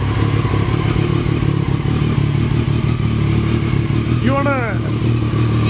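A motorcycle engine idles loud and close with a steady chugging rumble, then rises briefly in a quick rev toward the end, while people talk nearby over the noise.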